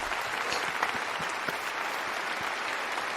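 Audience applause welcoming a guest on a brewing podcast, a dense steady burst of clapping close by, lasting a few seconds with no talk.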